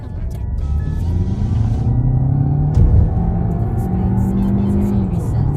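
An Audi Q3 Sportback 45 TFSI plug-in hybrid with 245 hp is driven in dynamic mode. Its engine gives a loud, continuous rumble that climbs gradually in pitch, and a voice seems to come through faintly underneath.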